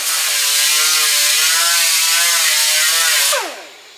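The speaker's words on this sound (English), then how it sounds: "I'm going to go ahead and grind that out." Power grinder working a dent out of a damaged car body panel during collision repair, a steady loud abrasive whine held for over three seconds before spinning down and cutting off near the end.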